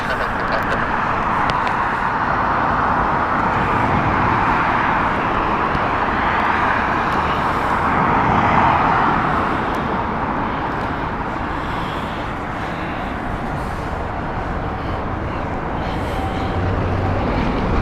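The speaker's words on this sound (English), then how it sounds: "Cathay Pacific inbound next. This is the Airbus A350 1000" A Cathay Pacific Airbus A350-1000 airliner arriving at Heathrow Airport, a steady broad jet roar that swells slightly midway and then eases, heard continuously at a moderate distance.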